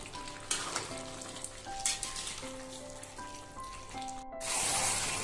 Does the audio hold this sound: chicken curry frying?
yes